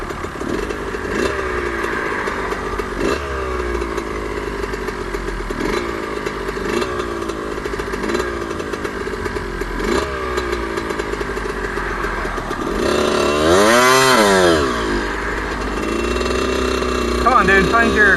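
A street-ridden 1346 dirt bike engine drones and revs while riding, with repeated throttle surges and a rising, falling pitch sweep near the end, heard close with steady wind and road noise.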